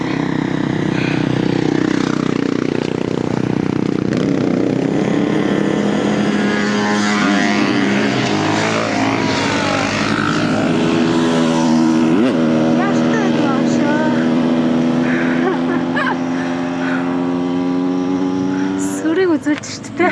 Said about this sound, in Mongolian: Мотот бол ингэ явах шүү дээ.